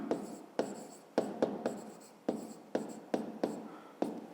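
Pen writing numbers in a school maths notebook: a run of short scratchy strokes, each starting with a tap, fairly close and steady, with no voice over them.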